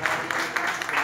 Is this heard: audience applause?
yes